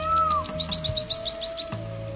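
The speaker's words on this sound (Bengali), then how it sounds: "পিন ড্রপ সাইলেন্স, তার মধ্যে হচ্ছে শুধু এই নেচারের আওয়াজ আর কিছু না। ওই পাখি, ওই ময়ূর।" Birds chirp in a quick repeated series of bright calls at Khandadhar nature camp during the monsoon, clear and fairly close, with a steady low tone underneath and no talking.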